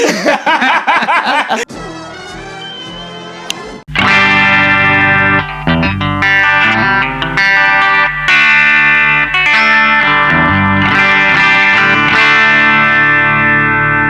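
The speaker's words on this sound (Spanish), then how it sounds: "Esta guitarra es muy económica y me ofrece ese sonido Fender Stratocaster puro que mola" Fender Stratocaster Vintera electric guitar played through effects, loud and sustained, with a short rhythmic passage before ringing, heavily processed chords and notes that fill the rest, no voices.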